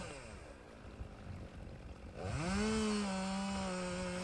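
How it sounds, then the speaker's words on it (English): A chainsaw rips lengthwise through a driftwood log for a mantel, the engine idling low at first and then revving up into a loud, steady whine under load. "You can see while I'm cutting that the chainsaw, when you're ripping like that, makes a ton of dust really fast"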